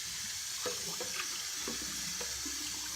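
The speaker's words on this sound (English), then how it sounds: "And a rinse with warm water," Tap water runs steadily into a sink, a constant hiss with occasional clinks and splashes as a Vidalia Chop Wizard is rinsed with warm water.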